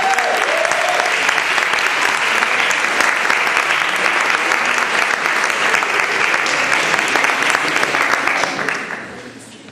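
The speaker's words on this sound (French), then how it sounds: "je vous demande un tonnerre d'applaudissements pour Monsieur Xavier de Bonaventure." An audience at an eloquence competition in Paris breaks into loud, sustained applause, a dense even roar of clapping that fades out at the end.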